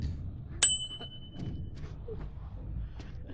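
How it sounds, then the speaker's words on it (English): A single bright bell-like ding in the horror game Evil Nun, sharp at first then ringing out briefly over low background hum, with no talk. "I'm gonna try to ring the bell"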